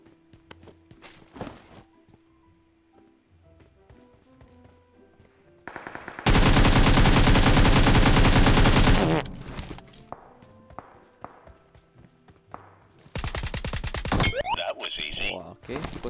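Gunfire in a shooter video game: a dense, loud sustained burst of automatic fire, then scattered quieter shots and footsteps, with another heavy burst near the end and people talking in between.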